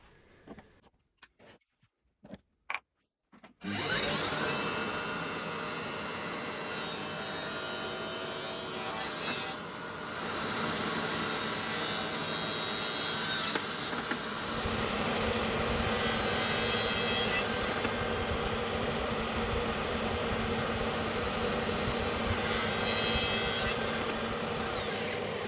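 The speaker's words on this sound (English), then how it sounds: "clean up the edges with a bit of sanding" Power sander working the edges of a wooden drilling guide for a router jig: a few brief taps and knocks, then a loud continuous abrasive whir that runs steadily for over twenty seconds, close up with no speech.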